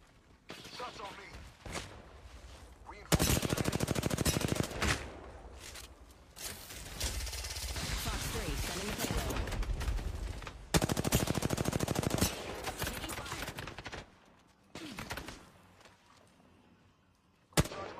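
Rapid gunfire from an online multiplayer shooter game rattles in loud bursts, with heavy volleys repeating across the span while players talk over the action.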